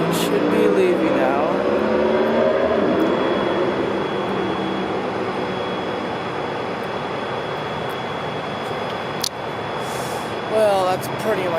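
A train sits idling at Camarillo station, a steady loud rumble of engine and machinery close by, with horn-like tonal sweeps near the start and end and people talking over it.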